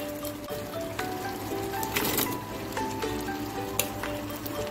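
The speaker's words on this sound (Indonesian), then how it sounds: "Ini sekarang akan saya masukkan ikan mujair gorengnya." Steady sizzling and bubbling as fried tilapia is added to simmering sauce in a hot pan, with a brief louder splash-like sizzle midway and a few faint clinks.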